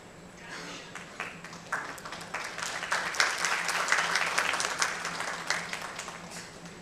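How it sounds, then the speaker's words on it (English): An audience at a business report launch in India applauds after a speech, scattered claps swelling into a fuller, moderately distant round that tapers off. "let's give Sir a louder round of applause"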